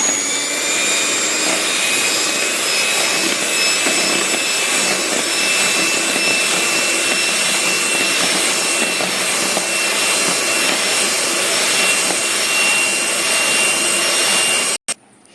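Electric hand beater whirring steadily through chikoo ice cream mixture in a bowl, a loud continuous motor whine with scraping texture that runs unbroken for about fifteen seconds before stopping abruptly.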